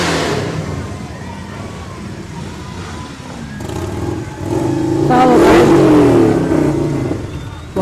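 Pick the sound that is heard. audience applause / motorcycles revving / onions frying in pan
motorcycles revving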